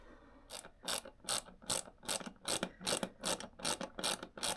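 A ratchet or screwdriver clicks steadily while a screw is tightened on the airbox of a 2018 Triumph Scrambler 900, with about a dozen evenly spaced rasping strokes, close up and with no talking.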